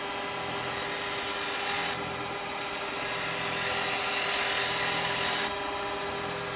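A spindle gouge cutting across the face of a wooden bowl spinning on a lathe, giving a steady, continuous rasping whir with a constant motor hum and slight shifts in texture.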